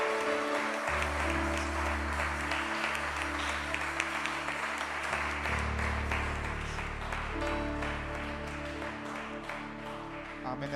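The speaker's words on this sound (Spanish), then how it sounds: "dele un fuerte aplauso a Dios" A church congregation at a Spanish-language Sunday service applauds to God, continuous clapping blended with sustained organ-like music and a voice speaking over it.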